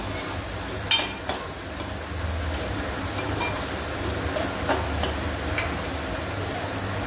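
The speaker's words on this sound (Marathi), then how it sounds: "हळद आणि आपला लाल मसाला त्याच्यात घालायचा आहे आणि तो पुन्हा आपल्याला तळून घ्यायचा आहे" Bombil fish and potato fry in a pan with turmeric and red masala, producing a continuous, even sizzle with a few light clinks and stirring sounds near the start.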